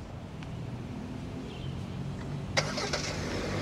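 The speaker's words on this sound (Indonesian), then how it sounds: "Kita nyalain mesin dari remote." A Hyundai Stargazer Prime MPV engine, started by remote, cranks and catches around midway, settling into a low steady idle with a couple of sharp clicks, heard from nearby with no talking.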